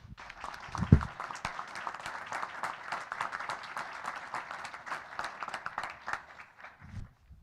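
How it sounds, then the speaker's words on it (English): Soft, fairly distant applause from an audience at a school board work session, steady scattered clapping with a brief voice at the start and end. "We'll give you a round of applause now."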